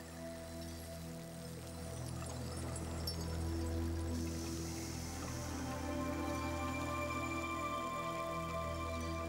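Steady rain falling over Amazonian marshland during the rainy season, a dense, even patter with water dripping, constant at moderate level throughout, no voices.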